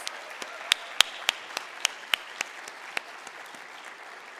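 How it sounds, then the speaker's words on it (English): Applause from an audience after a folk ballet performance at a community event, a thin scattering of claps with a few sharp, distinct hand claps standing out over a soft background patter. "Another round of applause."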